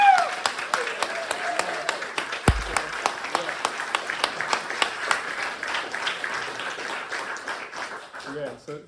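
An audience at a Sangha Day gathering claps for Dharma Swava and Ramani, loose individual claps building into a steady round that carries on for several seconds before tapering, with voices underneath.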